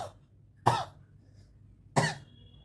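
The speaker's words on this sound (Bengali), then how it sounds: "একটু হঠাৎ করে কাশি এসে গেছে" Two short, sharp coughs from one person, spaced about a second apart, close to the microphone in an otherwise quiet room.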